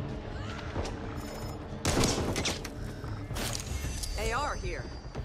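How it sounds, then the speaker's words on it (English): Firecrackers pop in a sharp, crackling burst in the video game Back 4 Blood, mixed with other game effects and chatter from players, with loud bangs near the middle and later on. "Firecrackers here."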